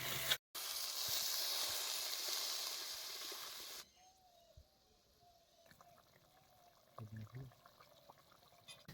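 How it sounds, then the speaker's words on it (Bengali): Water is poured into fried spice paste in a pan for a mustard pangas fish curry, giving a strong rushing hiss for about three seconds that stops abruptly, followed by faint quiet bubbling and a few small clinks. "এখন আমরা পরিমাণ মতো জল দিয়ে দেবো"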